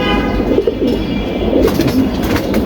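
Pigeons coo steadily in a loft, a soft continuous layer of low throaty calls close by with no talk over them.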